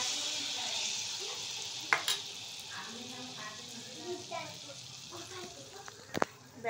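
Batter dropped into hot oil frying with a soft, steady sizzle, mixed with occasional utensil clinks and a voice talking over it.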